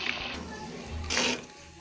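Ground tomato purée poured into fried chicken in a karahi, giving a soft wet splash and brief pouring hiss that swells near the end of the short clip.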